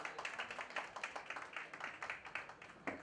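Audience applause at a song launch event, heard as a fairly faint, scattered patter of clapping with distinct individual claps rather than a dense roar.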